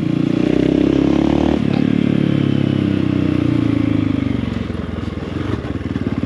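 A motorcycle brakes and downshifts, the engine note dropping as gears are reduced, loud and close with a rattly, pulsing exhaust that fades slightly toward the end.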